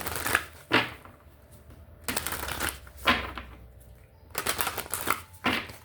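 Several bursts of cards being shuffled, riffling in quick flurries with short pauses between them, close and fairly loud, with no voices.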